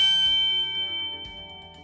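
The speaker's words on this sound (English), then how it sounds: "hit the damn bell" A notification bell ding rings out clearly, its bright metallic tone sustaining and slowly fading over a couple of seconds with a few faint softer knocks underneath.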